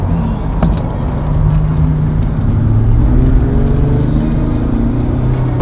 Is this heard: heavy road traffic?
yes